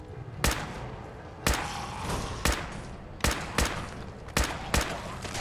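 Gunfire in Fallout 4: eight sharp single shots spaced irregularly, roughly one every half second to a second, over a low ambient bed with no talking.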